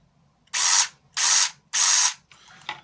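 A Nerf Stampede blaster's motorized mechanism is test-cycled after reassembly, giving three loud, close bursts of mechanical whirring and ratcheting of about a quarter second each, then a quieter, briefer rattle.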